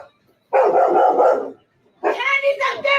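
A dog barks loudly and close by in two drawn-out bursts separated by a short pause.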